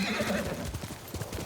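A horse in the Ghost of Tsushima video game whinnies with a rising, wavering call, then its hooves clop in a quick, steady rhythm, loud and close with no talk over it.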